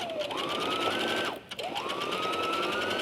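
A sewing machine stitches a 5/8 inch seam through fabric: the motor whines up to a steady speed, stops briefly, then spins up again into a continuous hum, close and alone.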